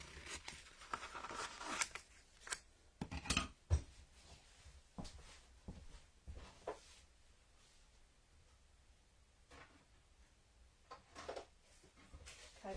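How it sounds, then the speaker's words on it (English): Scissors cut a tag from white card, with quiet, scattered snips and papery rustles in short bursts separated by pauses. "I'm going to cut the tag again, and I'm going to cut that from white card this time"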